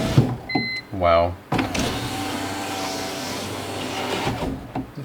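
A power window motor on a BMW E46 runs in a short whirring burst near the start, followed by a longer mechanical hum from the car, with a few clicks and knocks around it.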